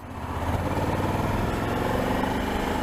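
A Suzuki V-Strom 1000 motorcycle engine pulls at low revs below 2,000 rpm, a steady, throbbing mid-pitched drone that stays even and close throughout.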